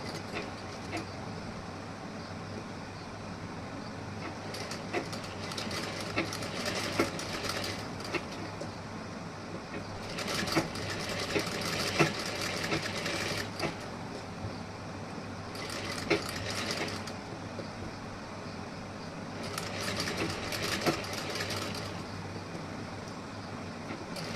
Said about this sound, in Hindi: अब यहाँ पे हम ऐसे स्टिचिंग कर देंगे।